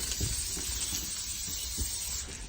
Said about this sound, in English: you might like to just a little bit of a splash of olive oil, or don't be afraid to give them a spray